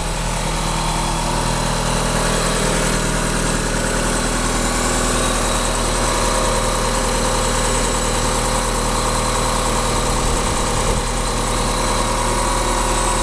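On a first start-up of an Eagle Talon AWD fitted with a new turbo, the engine runs loudly and steadily nearby, a constant idle-like drone that holds without pause and no talk over it.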